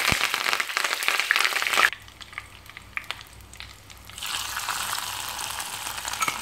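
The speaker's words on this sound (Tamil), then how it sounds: "தாளித்து கொட்டிக்கலாம். நெய், மிளகு சீரகம், பச்சை மிளகாய், முந்திரி பருப்பு" Ghee sizzles loudly as pepper, cumin, green chilli and cashews fry for a tempering poured over wheat rava pongal. A bright crackling burst is followed by a quieter stretch of pops, then a steady renewed sizzle.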